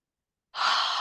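A deep, airy breath during a qigong exercise starts after a half-second of silence and holds steady and close until the end, with no talking.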